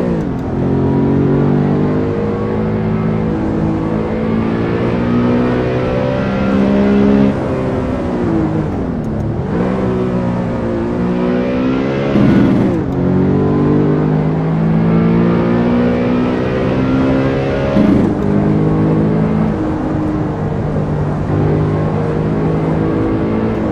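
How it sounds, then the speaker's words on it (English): A car engine revs hard through the gears on a winding country B road, strong harmonic drone rising and falling with shifts, turbo spooling in as it pulls, loud and continuous with no talk. "Hear the turbo kicking in as well."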